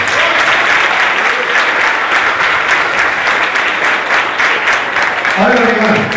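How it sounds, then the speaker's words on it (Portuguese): Church congregation applauding at a miracle conference: dense, steady clapping fills the whole stretch, and a voice begins speaking over it near the end. "Aplaude o nome do Senhor."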